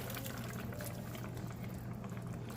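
Water poured into a pot of Jamaican oxtail, a continuous bubbling, gurgling liquid sound held steady and fairly close for a couple of seconds, with no talking.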